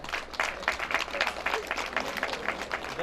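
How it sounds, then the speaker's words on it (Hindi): An audience at an evening lamp-lighting and sermon program claps to welcome a speaker, with steady, moderately distant applause running throughout and no talking over it. "आप सबसे आग्रह होगा कि ताली जोरदार से स्वागत करेंगे"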